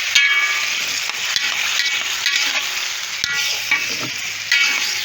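Cleaned, deboned sardines frying in a pan for spicy sardine macaroni, a loud close crackling sizzle with scraping stirs and a few sharp clicks of utensils against the pan.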